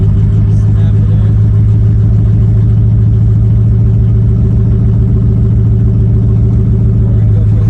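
A truck engine with a loud exhaust drones steadily and close up while driving, a deep rumbling tone with a throbbing pulse and a voice speaking over it.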